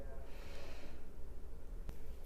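A long, deep breath drawn in and let out during a yoga twist, a soft airy rush that swells and fades, followed by a brief sharper sniff, close and quiet.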